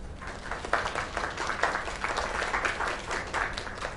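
Steady applause from a crowd in the video game Lake, a dense wash of clapping that holds at moderate level throughout without pauses.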